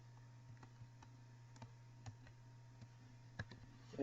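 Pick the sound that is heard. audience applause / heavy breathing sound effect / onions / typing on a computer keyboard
typing on a computer keyboard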